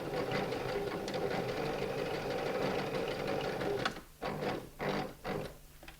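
A sewing machine stitching felt runs in a steady loud whir for about four seconds, then breaks into a few short separate bursts as it reverses back over the stitches.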